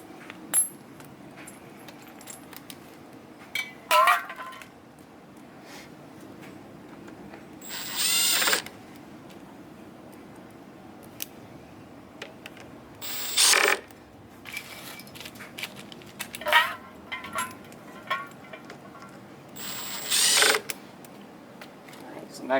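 Screws are driven back into the clutch of a Honda ATC70 three-wheeler, heard as several short, sharp bursts from a tool spaced several seconds apart, with soft handling clinks in between.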